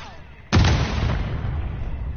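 A single heavy sniper shot booms in a Call of Duty firefight, a sudden loud blast followed by a long rumbling echo that trails off.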